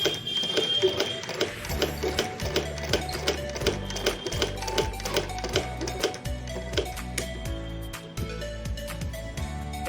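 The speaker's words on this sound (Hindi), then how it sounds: "सिलाई शुरू करेंगे।" A sewing machine stitching a cloth pad, a fast, regular mechanical clatter of needle strokes running steadily up close, with brief pauses as the fabric is turned.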